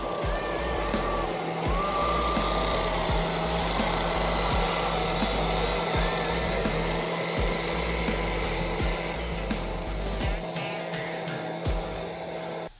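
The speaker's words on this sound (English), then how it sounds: "the Kubota L39 wheel loader must dig up the surrounding soil before it can be pushed down" A Kubota L39 wheel loader works steadily as it digs soil around a tree, its engine droning continuously with irregular knocks and scrapes from the bucket biting into earth.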